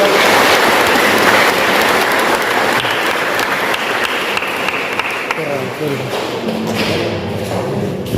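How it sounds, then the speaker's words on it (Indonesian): An audience claps for a newly professed SVD brother at a thanksgiving service for his final vows, the applause loud and continuous; a voice and some low thuds come through faintly under it toward the end. "kita tepuk tangan dulu untuk Bruder ini"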